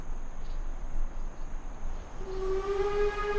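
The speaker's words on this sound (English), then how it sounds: "the train starts to make an ungodly sound" A train lets out a sustained high whistle-like screech that rises in over a constant rumbling hiss, loud and continuous, with no one talking.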